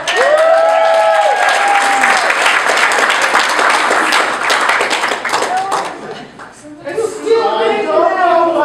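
A studio audience bursts into dense clapping and cheering as a contestant named Matt is brought in, loud and sustained for several seconds. Voices call out over it, then the clapping drops away and speech takes over.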